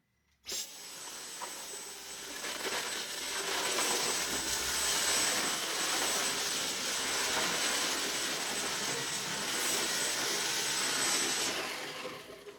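A Dyson V10 stick vacuum with an intermittent fault whirs loudly with a steady high whine for about eleven seconds, then cuts out abruptly and winds down to silence.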